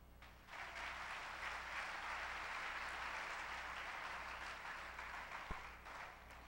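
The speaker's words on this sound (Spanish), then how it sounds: "Denle un aplauso." Applause from a church congregation during a sermon, a steady sustained clapping wash heard moderately distant and fairly quiet, with a single sharp knock near the end.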